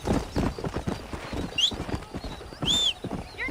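A horse in Red Dead Redemption clip-clops in quick, uneven hoofbeats, with two short, shrill whinny-like cries breaking through midway and near the end, all close and fairly loud.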